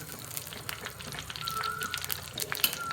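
Spice powder sautés in a pan for a Nagercoil-style fish curry, a quiet, close sizzle with soft stirring scrapes and faint crackles.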